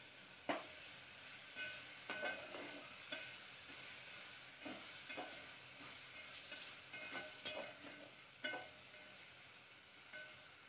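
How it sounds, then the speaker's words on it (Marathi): Finely chopped tomato softening in a pan for moong masala khichdi, a quiet low sizzle punctuated by irregular sharp knocks and scrapes of a spoon stirring, fairly faint and unaccompanied by speech. "त्यानंतर एक टॅमॅटो टाकणार आहे बारीक चिरून घेतलेला, तो पण मऊ होईपर्यंत परतून घेऊया"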